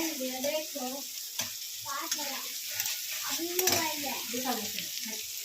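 Water poured into a pan of spice masala sizzling on the stove: loud frying hiss and crackle with wobbling bubbly tones and occasional stirring clinks, steady throughout with no speech.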